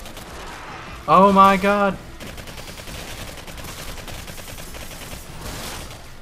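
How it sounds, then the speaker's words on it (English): Sporadic gunfire from the Singularity video game crackles at moderate volume behind a brief exclaimed voice, with scattered shots continuing after the speech. "let me just shoot some bullets right through your head"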